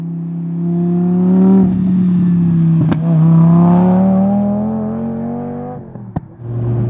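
A Lamborghini Gallardo with over 500 horsepower revs its engine, a loud, close, deep drone that swells and falls through several throttle blips, with sharp crackles partway through.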